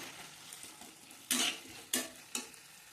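Chopped capsicum is stirred in a frying pan for chilli prawn: a soft sizzle underneath, then three sharp spatula scrapes against the pan in quick succession, close and fairly loud, with no voices.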